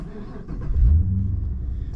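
A 6-litre Holden V8 with J pipes rumbles from inside the cabin, a deep steady low exhaust drone that swells briefly as the engine picks up, with no talking.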